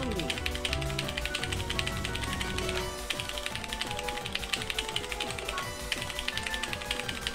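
Keyboard keys clack rapidly and steadily while DJMAX RESPECT V is played, a dense busy tapping under loud rhythm-game music throughout.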